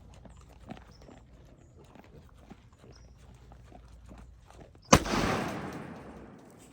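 One very loud, close .44 Magnum gunshot is fired at a hog, a sharp blast followed by a long decaying echo, after a stretch of quiet outdoor shuffling and footsteps.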